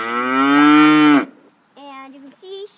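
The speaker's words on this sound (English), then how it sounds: "And you can see she just yelled, moo." A cow gives one long, loud, close moo, followed after a short pause by a softer, shorter second call that rises at the end.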